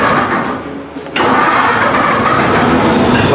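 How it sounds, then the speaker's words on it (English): A chopped 1950 Ford Shoebox's engine, after sitting for over 20 years, cranks briefly and then catches, settling into a loud, steady idle close by. "turn the key on in the dash here, hit the button on the dash here"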